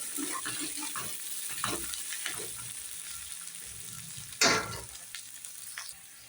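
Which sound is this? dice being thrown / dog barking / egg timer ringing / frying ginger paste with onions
frying ginger paste with onions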